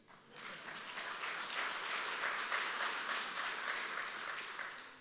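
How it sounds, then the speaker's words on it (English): An audience at a Gideons national treasurer's report claps hands, swelling in quickly after a quiet start and holding a full, even round of applause to the end. "You can clap hands."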